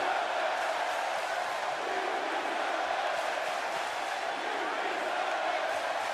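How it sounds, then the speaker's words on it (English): A Seattle arena crowd in the WWE 2K wrestling video game cheers for Finn Balor in a steady, distant roar of voices that holds constant without breaks. "The Seattle crowd here tonight showing their appreciation for Finn Balor."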